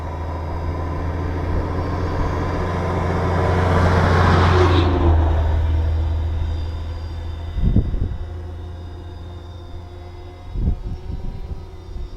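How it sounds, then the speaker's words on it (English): Road traffic passing near a sunflower field, a vehicle swelling loud and then fading away, followed by quieter intermittent thumps and rumbles of further passing vehicles. "Sorry for all the traffic."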